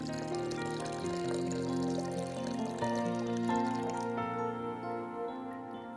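About one and a half cups of water pour into a pot for a lassi, a soft liquid splash and trickle running under steady background music.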